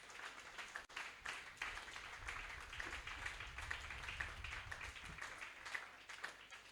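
A church congregation applauding at an evangelical week closing service, a fairly faint, steady wash of many hands clapping throughout, with a murmur of voices underneath.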